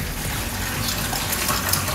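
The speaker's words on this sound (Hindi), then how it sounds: "अब हम इसमें डालेंगे पानी" Water poured into a cooking pot over pieces of meat and trotters for bong paye, a steady gushing splash that stays loud and even throughout, with no talking.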